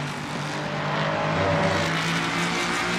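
A race car in the Assetto Corsa Competizione video game slows under braking, its engine a steady droning tone with a slight pitch shift, heard alone at moderate volume.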